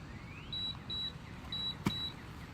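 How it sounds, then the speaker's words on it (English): Two pairs of short, high electronic beeps from an interval-training timer sound in quick succession over quiet room noise, with a brief thump near the end. "There's a double beep."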